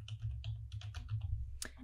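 Rapid typing on a computer keyboard while naming a new notebook, a quick run of close, crisp key clicks over a steady low hum, ending with one sharper keystroke.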